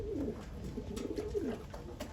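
Racing pigeons coo repeatedly in low, rolling phrases, with several birds overlapping close by against a steady background hum.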